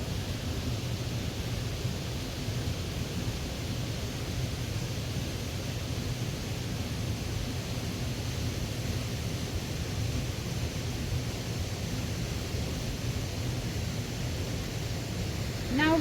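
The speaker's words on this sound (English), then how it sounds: "The waterfall is here." A waterfall in Kirinyaga, with slippery ground after rain, gives a steady, even broadband rush of falling water. It is fairly soft and unchanging throughout, with no voices over it.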